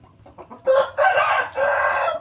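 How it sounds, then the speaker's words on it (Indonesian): Kate bantam chickens kept as a hobby flock of about fifteen birds: soft clucks at first, then loud, close crowing that holds for over a second, breaks briefly, and resumes. "Ayam kati kita lama-lama semakin banyak ya saudara-saudara"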